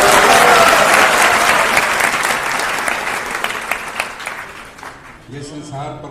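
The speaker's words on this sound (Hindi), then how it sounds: "तालियां बजाइए इनके लिए" A crowd claps loudly and energetically at an ISKCON question-and-answer gathering. The applause starts dense and full, then gradually thins and fades until a voice begins speaking at the end.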